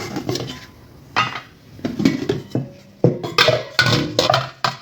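Plastic salad bowls with lids are picked up, set down and knocked together, making close, irregular clacks and clinks in short clustered bursts, with no talking.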